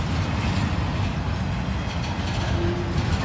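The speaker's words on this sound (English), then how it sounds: "That was a nice train." Freight train passing a railroad interlocking where CSX and Norfolk Southern lines cross, a loud, close, continuous rumble and rolling roar of wagons with a brief high squeal near the end.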